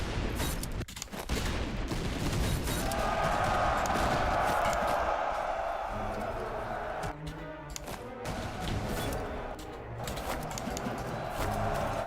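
Dense, continuous gunfire and battle noise from a Russian colonel campaign in a war video game, a steady loud barrage lasting the whole stretch with a few sharper reports standing out.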